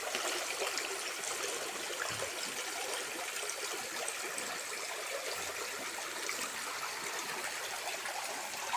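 River water flows steadily in a broad, even rush at a riverside laundry spot, sounding close and continuous with no talking.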